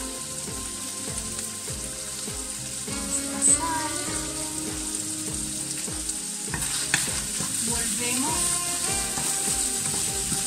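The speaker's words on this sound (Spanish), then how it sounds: "Vamos a dejar que se sofría unos 2 minutos más" Sofrito of morcilla and longaniza frying in a pan for a risotto, a steady close sizzle and crackle with occasional stirring scrapes throughout.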